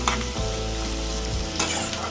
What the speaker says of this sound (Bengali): চলো এটা একটু ভাজা ভাজা হোক।